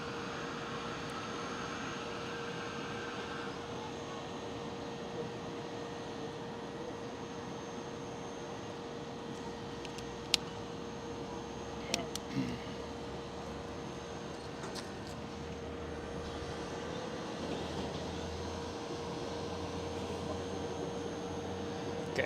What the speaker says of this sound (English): KLM City Hopper E195 E2.